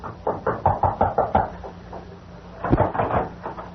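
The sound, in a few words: knocking on a door, radio drama effect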